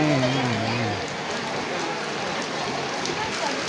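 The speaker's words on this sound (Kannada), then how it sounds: "ನೋಡಿ, ಮಳೆ ಹೆಂಗೆ ಬರ್ತದೆ." Rain pours onto a street in the Chickpete shopping area, a dense, even, continuous patter close by, with a brief voice near the start.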